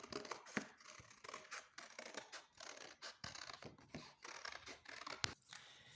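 Scissors snip through A4 cardboard in a series of quiet, irregular crunching cuts, close up and faint, with no talking.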